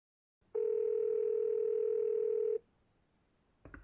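A steady telephone dial tone sounds clearly for about two seconds, then cuts off, followed by a brief faint burst of sound.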